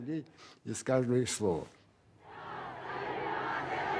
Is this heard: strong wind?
no